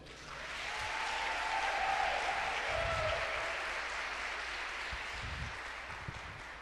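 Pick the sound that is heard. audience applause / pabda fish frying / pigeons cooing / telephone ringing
audience applause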